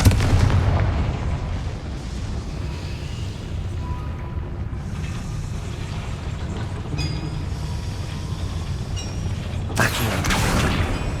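A Confringo fire spell erupts in Hogwarts Legacy, a sharp burst cracking out near the end over a steady rumbling, creaking mechanical game ambience.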